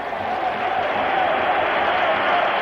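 A stadium crowd in Rome applauds and cheers Roma at half-time of a 1984 European Cup semi-final against Dundee United, a steady, broad roar with no break.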